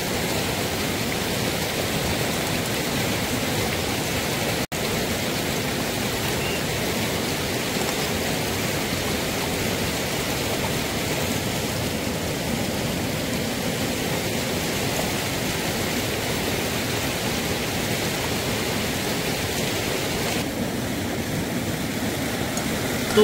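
Steady, dense rush of falling water, constant and fairly loud throughout with no voices, like a waterfall heard from nearby, in the hills near Dehradun, Uttarakhand.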